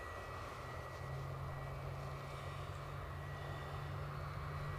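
A British Airways airliner arriving at Edinburgh Airport from London Heathrow, its engines producing a steady, fairly distant roar and low drone that holds evenly throughout with no voices.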